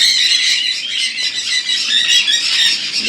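A sun conure at a foreign-bird farm in Kolkata lets out loud, shrill, sustained squawks and squeals, close and piercing, with no talking over it.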